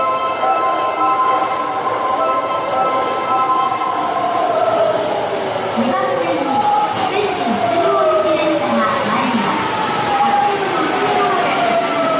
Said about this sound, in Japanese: 1番線に谷並行き電車が参ります。